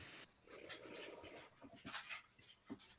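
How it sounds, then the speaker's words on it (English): A dog in a room pants and moves around restlessly, soft breathy huffs and shuffling close by, with no voices heard. "And get that dog out of here. I don't want him jumping all over me."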